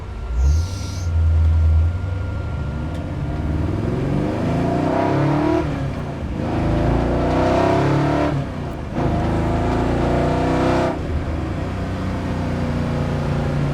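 Heard from close by, a 1970 Chevrolet Chevelle SS V8 pulls hard at half throttle, roaring steadily as it climbs through the revs, with a brief dip at a gear change before it surges on.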